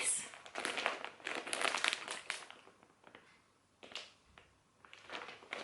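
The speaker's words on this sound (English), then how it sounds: "excuse crinkling" Plastic packaging around a skein of Debbie Bliss Rialto lace yarn crinkles close by in soft, irregular bursts with short pauses, fairly quiet, with no talking over it.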